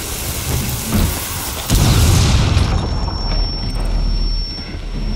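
A bomb detonates in Rainbow Six Siege, a loud deep boom with rumbling low-end that swells, then decays into a lingering muffled roar and a thin high ringing tone afterward.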